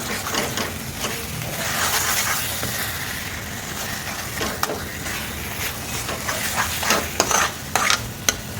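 Fried fenugreek leaves and onion being stirred together in a pan, a steady scraping and turning with soft sizzling underneath and a few sharper clinks of the utensil near the end, close and continuous.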